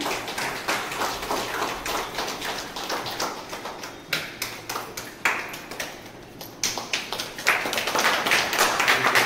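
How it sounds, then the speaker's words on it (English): Applause at a school Children's Day celebration, uneven and fairly close, with individual claps standing out. It briefly slackens midway, then swells again toward the end. "please give a massive round of applause to Samiksha Das"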